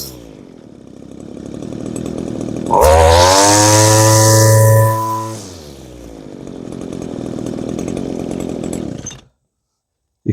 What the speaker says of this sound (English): You couldn't ask more out of a string trimmer and powerhead assembly than this one gives.